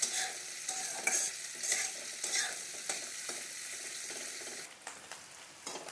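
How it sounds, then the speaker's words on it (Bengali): Chopped capsicum, carrot and green chillies fry in hot oil with a steady crackling sizzle, broken by repeated scraping stirs of a spatula in the pan, close and moderately loud with no talk. "ক্যাপসিকাম আর গাজর কাঁচা লঙ্কা কুচি ভেজে নিয়েছি"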